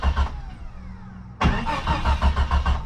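A Jeep Cherokee XJ engine cranks over close by, a rhythmic chugging starter that pauses briefly, then resumes louder with a steady pulsing beat.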